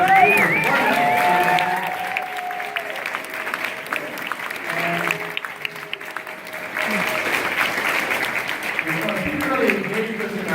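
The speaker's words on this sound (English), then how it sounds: "Give him a great round of applause." Church congregation applauding during a mortgage-burning service, broad crowd clapping under someone speaking over a microphone, swelling again toward the end.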